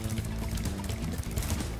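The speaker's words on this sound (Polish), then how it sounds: "I tamten wodospad." A waterfall roars in the video game Spyro: Year of the Dragon, a steady loud rushing wash of water throughout.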